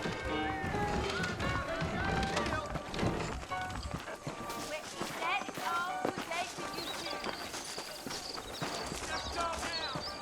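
Horse hooves in Red Dead Redemption clip-clop at a steady trotting rhythm, fairly close, continuing under voices and busy background sound throughout.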